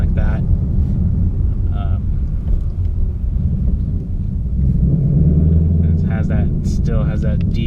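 A 2018 Ford Mustang GT V8 fitted with a Roush resonator-delete X-pipe cruises with a deep, steady exhaust rumble and some rasp, loud and continuous throughout with brief bits of talk over it.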